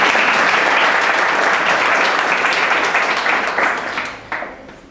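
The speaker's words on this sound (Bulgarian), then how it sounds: "И разбира се, аплодисменти за всички вас," Audience applause at a youth gathering in Vratsa, Bulgaria, a dense, loud wash of clapping that holds steady and then thins and fades toward the end, with a few isolated claps trailing out.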